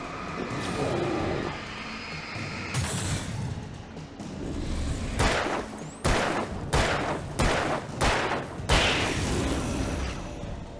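Gunfire in the Alan Wake video game, a run of about six sharp, loud gunshots fired in quick succession in the second half, each with a bright crack and short tail over a dense, noisy ambient background.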